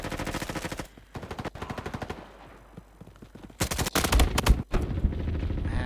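Gunfire from weapons picked up off enemies in the Roblox shooter Frontlines: rapid automatic bursts in several strings with short pauses, then a louder heavy volley near the end, close and without talk.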